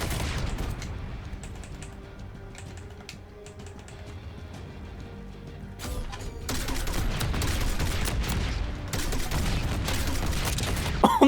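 Heavy video game gunfire in Black Ops 6, scattered shots early that build into sustained loud automatic bursts and explosions in the second half.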